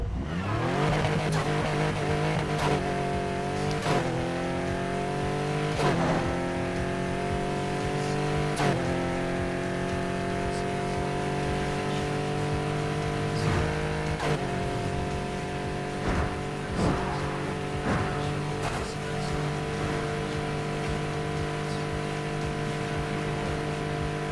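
3.5-litre V6 engine of a black-and-green Porsche 911 RSR race car in the game Need for Speed Heat, revving hard and climbing through repeated gear changes, each shift marked by a sharp drop in pitch, loud and close throughout.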